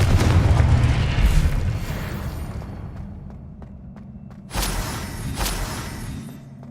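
Repeated Confringo blasting spells explode in the Hogwarts Legacy video game: a loud booming burst decays over a few seconds, followed by a second sharp blast with crackling debris.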